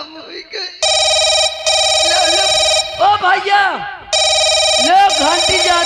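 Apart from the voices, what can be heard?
telephone ringing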